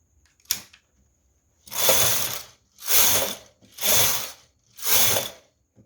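A knitting machine carriage sweeps across the needle bed for four rows while knitting lace, each pass a loud rasping, ratcheting slide of about a second with short silent gaps between, preceded by a brief click.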